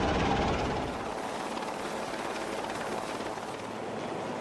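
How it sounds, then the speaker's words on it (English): A helicopter during a sea evacuation drill gives off a steady broadband rotor and engine roar, loud and continuous throughout, with no voices. "Helicopter evacuation takes place very quickly."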